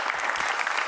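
Studio audience clapping on a Greek entertainment show, a brief dense burst of applause heard alone at steady loudness.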